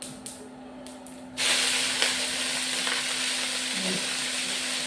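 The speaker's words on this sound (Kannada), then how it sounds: "ಈಗ ನಮ್ಮ ನುಗ್ಗೆ ಸೊಪ್ಪನ್ನು ಹಾಕ್ಬೋದು" Drumstick leaves hit a hot frying pan for a sukka, and after a quiet first second a steady, loud sizzle bursts up and carries on evenly with faint crackles.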